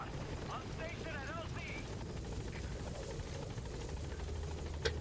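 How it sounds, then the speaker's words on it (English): Support helicopter in the Metal Gear Solid V: The Phantom Pain video game, a steady rotor thrum held under game dialogue and brief radio chatter. "Support helicopter has arrived."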